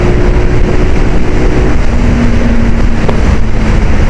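A 2010 Yamaha YBR 125 motorcycle picks up pace, its engine note climbing steadily under heavy, constant wind roar from a helmet-mounted view on an open road.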